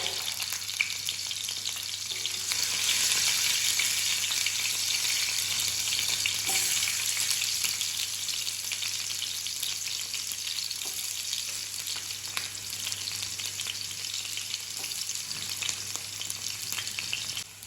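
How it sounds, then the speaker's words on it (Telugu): Green chillies and onions fry in hot oil for a quick lunchbox curry, giving a loud, continuous sizzle that stays even from start to finish with a few faint scrapes and no talking. "ఆయిల్ అయితే హీట్ అయిపోయింది ఇందులోకి పచ్చిమిర్చి యాడ్ చేస్తున్నాం అండ్ ఆనియన్స్ కూడా"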